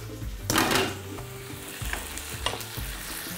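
Bulgur with vegetables frying in a pan for stuffed peppers, a soft continuous sizzle broken by scraping stirs of a spoon against the pan, close and fairly quiet.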